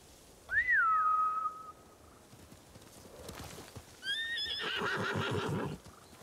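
In the Ghost of Tsushima game, a loud rising whistle is followed by trained samurai horses neighing and their hooves clip-clopping near at hand as they gallop in.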